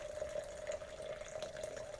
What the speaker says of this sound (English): And slowly pour it into the jar.